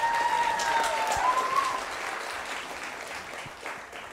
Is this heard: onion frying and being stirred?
no